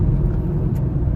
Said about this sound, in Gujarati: સામે એક કટર આવી રહ્યું